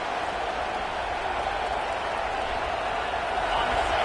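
A large video game college football stadium crowd roars in a steady, dense wash of noise, loud and unbroken throughout.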